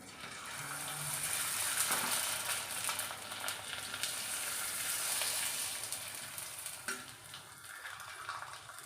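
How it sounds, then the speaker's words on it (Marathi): Oil sizzles and crackles steadily as bhaji fritters deep-fry, a dense hissing bubbling that swells and eases slightly, with no talking. "छान पटापट आपण भजी तळून घेऊया"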